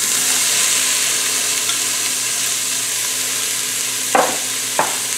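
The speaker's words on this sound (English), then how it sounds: "I'm going to add my peas and carrots. Now, these were frozen, so we're just going to saute these up a little bit" Frozen peas and carrots sauté in oil inside an Instant Pot, giving a steady close sizzle throughout, with two brief sharp stirring scrapes near the end.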